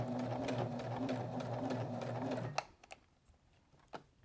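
A sewing machine stitches fabric car coasters in a fast, steady mechanical whir for over two seconds, then stops, leaving only faint clicks and handling noises.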